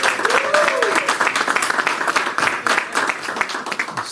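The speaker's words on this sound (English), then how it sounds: "can give her a big round of applause." At a mayor's outdoor announcement of new waterfront parkland in Co-Op City, an audience applauds for a credited official, with dense clapping and a brief voice calling out near the start.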